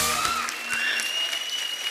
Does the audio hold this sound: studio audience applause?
yes